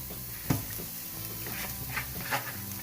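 Ground beef going back into a hot pan with cooked onions, a close, soft sizzle with scraping and stirring clatter, one sharper knock near the start and small spatula taps after.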